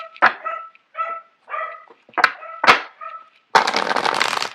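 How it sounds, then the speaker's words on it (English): Dogs bark in the background, several sharp, loud barks and yips in quick irregular bursts, followed by a dense noisy rush of sound at the end; no one speaks. "I apologize for the dogs barking in the background."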